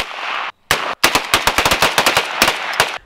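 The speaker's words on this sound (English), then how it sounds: "we're going to throw a few rounds out of it into our sacrificial monitor over here" Rapid string of close, loud pistol shots from a Glock 43 fired into an old computer monitor, a brief pause after the first shot, then a dense, quick volley of sharp cracks.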